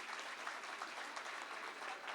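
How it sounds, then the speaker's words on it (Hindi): Faint, distant audience applause at a Hindi poetry recital, a dense even clatter of many hands held at a steady low level without a break. "अब जोरदार ताली होनी चाहिए"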